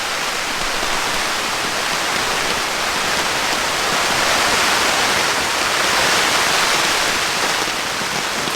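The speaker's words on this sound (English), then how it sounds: "It's become torrential rain." Heavy torrential rain pounds a camping tent, a dense, loud, unbroken roar of drops that holds steady throughout.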